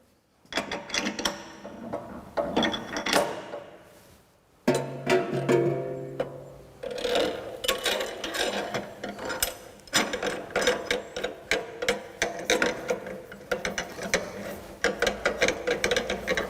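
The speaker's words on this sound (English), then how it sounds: "it will pull it in to the spindle once you tighten it" A cutting tool holder is tightened into a machine spindle, giving a run of irregular metallic clicks, ratcheting rattles and clanks, with a short pause partway through before the mechanical clatter resumes.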